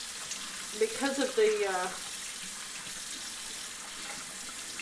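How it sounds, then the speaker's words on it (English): Running water rinsing a stone metate used for grinding salsa chiles, a steady close hiss of splashing flow with a brief spoken phrase partway through. "I'm just going to start by rinsing it. I'm not going to use any soap on this"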